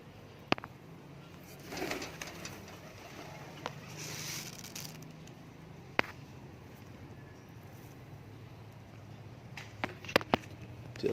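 Pigeons coo faintly in a bird-keeping spot in Malaysia, with low intermittent calls under quiet ambience and a few sharp clicks and taps.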